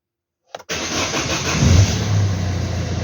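A Citroen car engine cranks briefly, catches on the first try and settles into a steady, loud idle that swells slightly as it runs, close by with no talking.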